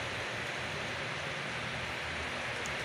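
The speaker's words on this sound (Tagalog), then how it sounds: "umulan na naman po dito sa amin ngayon" Rain falls steadily outside as an even, continuous hiss, moderately loud and alone without voices.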